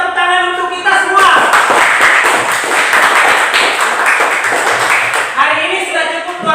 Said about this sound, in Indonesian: sekali lagi Bapak minta tepuk tangan untuk kita semua.